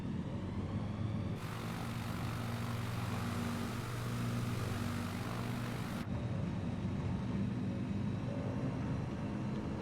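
A light aircraft engine in a flight simulator game runs at full throttle for takeoff, a steady droning hum with a brighter, louder rise in the middle stretch, continuous throughout with no talk.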